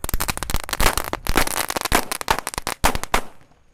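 Strings of firecrackers, including mercon tikus, bursting during a Ramadan night: rapid, loud, close crackling pops in dense irregular bursts with brief gaps, tapering off at the end.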